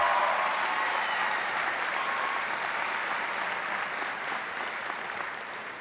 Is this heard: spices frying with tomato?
no